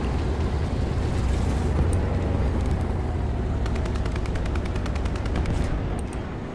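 Enemy gunfire in the War Thunder tank battle game, with bursts of rapid machine-gun shots crackling over a constant heavy engine rumble, some volleys distant and some sharper and closer, lasting several seconds.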